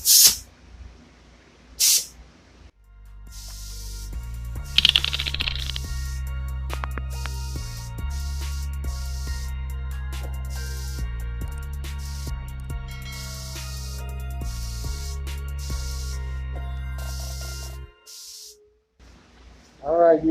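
A spray gun lays Grant 7 clear coat onto a motorcycle helmet, hissing steadily for about fifteen seconds with brief pulses, close and loud, bracketed by short trigger bursts at the start and end.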